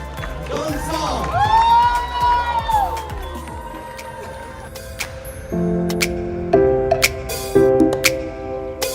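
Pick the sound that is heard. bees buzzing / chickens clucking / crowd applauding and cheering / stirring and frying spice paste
crowd applauding and cheering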